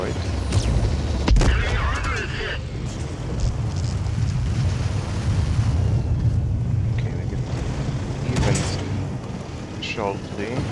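Tank cannon fire and rumbling battle noise in World of Tanks during an April Fools wrecking ball event, a sharp blast near the start over a steady loud roar, with a player talking throughout.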